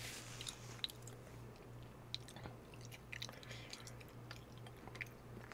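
Close, quiet crunchy bites and moist chewing of Korean fried chicken, with a few crisp bites standing out over soft mastication and a faint steady hum underneath.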